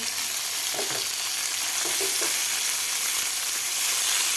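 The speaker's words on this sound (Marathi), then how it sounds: "आता व्यवस्थित आपल्याला टोमॅटो आणि कांदा व्यवस्थित फ्राय करून घ्यायचा आहे तेलामध्ये" Sliced onion and tomato fry in hot oil for a paneer masala, giving a dense, loud, continuous sizzle with a few soft stirring touches and no voices.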